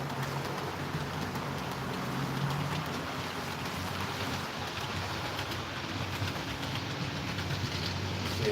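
Model railway train rolling through a station, a steady faint rumble and hiss of wheels on track with no talking over it.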